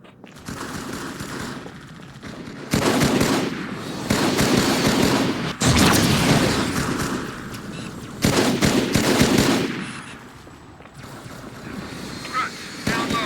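Gunfire in the Halo 2 video game, with bursts of loud, rapid automatic fire in several separate volleys and quieter gaps between them, and voices calling out in the background.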